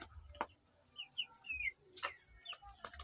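Three-week-old poultry chicks give a scattering of short, high chirps and soft clucks against a low background hum. There are no voices.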